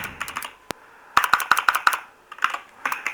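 Fingers tap out a short prompt on a computer keyboard, close and crisp, a quick run of distinct keystrokes in small bursts separated by brief pauses, with no talking.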